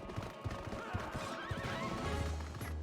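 A horse neighs in the Zelda game Twilight Princess, over a steady bed of game music and sound effects. A low sustained tone fills the final second.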